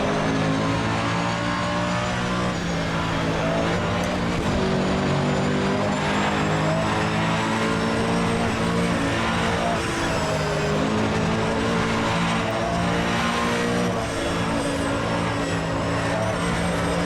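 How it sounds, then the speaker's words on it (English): A race car in the Assetto Corsa Evo racing game drones with a steady, buzzing engine tone that rises and falls throughout, with brief stuttering cuts from the traction control and no voices. "You can hear the traction control kicking in."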